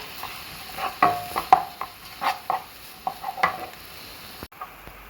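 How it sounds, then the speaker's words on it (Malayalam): Chicken bones with crushed ginger, garlic, green chilli and salt are stirred in a pan for a roast, giving irregular close scrapes and clinks over a faint sizzle, ending with a brief knock. "ആവശ്യത്തിലുള്ള ഉപ്പ് നന്നായിട്ടൊന്ന് ഇളക്കി കൊടുക്കാം"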